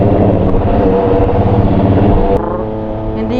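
A CFMOTO 675SR-R motorcycle engine idles smoothly after a remap, a close, steady low rumble with an even tone that dips slightly partway through and carries on without talk.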